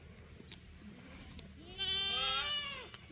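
A goat gives one loud, wavering bleat close by, rising out of a quiet outdoor background of light rustling and distant low noise.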